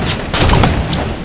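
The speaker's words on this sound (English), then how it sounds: "Grenade incoming!" A grenade explodes in the video game Halo 5, a loud, close blast with a broad rumbling burst that fills the short moment alongside other gunfire-like crackle.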